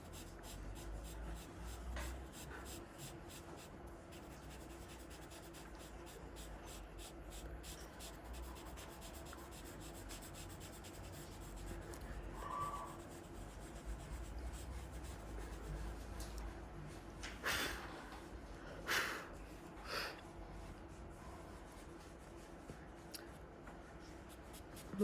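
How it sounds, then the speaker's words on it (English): A dark charcoal pencil scratches and rubs across paper in a long, soft, continuous rasp of drawing strokes, faint and close, with a few brief louder scuffs partway through. "so I'm using my dark charcoal pencil for that"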